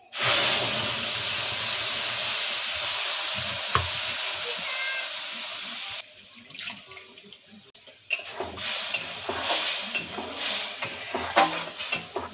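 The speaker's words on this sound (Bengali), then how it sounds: "এখন ভালো করে ভেজে নেব।" Cumin, poppy seeds, green chili and ginger frying for a Bengali bottle gourd shukto give a loud steady hiss for six seconds, then a quieter crackle with scattered pops and stirring clicks.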